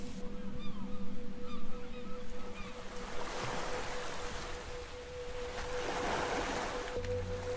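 Waves roll in at a seashore close to a city, a continuous soft surf wash with a faint steady tonal hum underneath and a few brief distant calls early on, with no one speaking.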